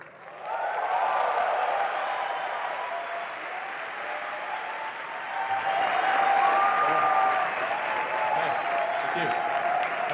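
An audience applauds steadily to welcome Elon Musk, a dense wash of clapping that starts abruptly, holds for about ten seconds and swells slightly near the end, with a voice briefly heard over it.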